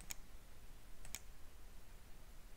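Two crisp computer mouse clicks, close and fairly quiet, about a second apart, made while working in PowerPoint over a faint steady background hiss.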